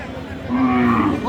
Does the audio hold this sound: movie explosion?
no